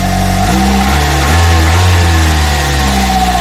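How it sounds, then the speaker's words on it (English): A Kia Soul engine with a newly replaced valve cover gasket runs steadily under an open hood, a loud, close idle hum that rises briefly in a light rev. "As you can hear, the engine is running."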